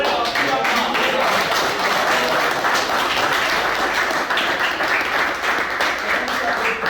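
A crowd at a seminar gathering claps steadily and loudly in sustained applause for a speaker, dense and even throughout.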